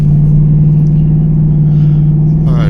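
Chevrolet Colorado pickup truck on a test drive, a loud steady low engine and road drone filling the cabin, continuous with no talk.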